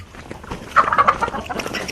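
Native country chickens on an integrated goat, cattle and poultry farm give a short burst of close clucking over faint background noise.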